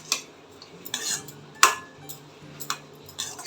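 Gooseberry rice is mixed with a metal spoon, a few sharp clinks and scrapes against the vessel at irregular intervals over a quiet background, no talking.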